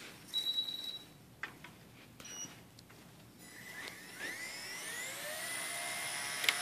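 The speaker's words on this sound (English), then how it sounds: "So let me spool it up and show you guys how it flies." A Blade Nano CPX RC helicopter fitted with an RKH alloy head spools up, a few faint clicks giving way to a rising, increasingly loud high-pitched motor whine that climbs steadily toward full speed.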